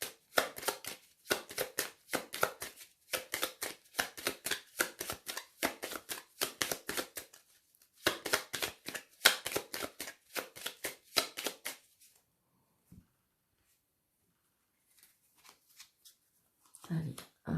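A deck of oracle cards is shuffled by hand in quick, rhythmic riffling bursts, close and crisp, pausing briefly between rounds before falling quiet, with someone speaking French softly near the end.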